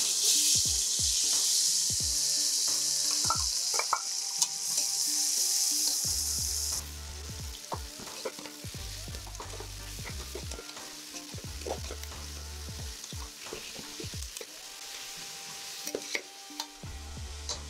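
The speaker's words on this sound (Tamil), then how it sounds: "ஆனியன் வந்து கோல்டன் ப்ரௌன் ஆகிற வரைக்கும் நல்லா வந்து ஃப்ரை பண்ணணும்" Onions and green chillies fry in hot oil for a paneer pulao: a bright, loud sizzle for the first several seconds, then quieter crackling frying broken by repeated scraping strokes of a spoon stirring the pan.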